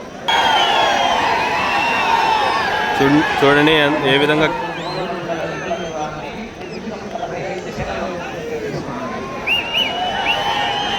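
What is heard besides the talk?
crowd shouting and cheering at a bull race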